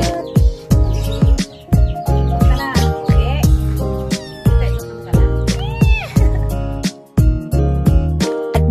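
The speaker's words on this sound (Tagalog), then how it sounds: "yung mga pusa namin makukulit. Ayan, yung mga kuting na yan." Kittens meow repeatedly and insistently close by, a busy overlapping series of high, wavering cries with little pause between them.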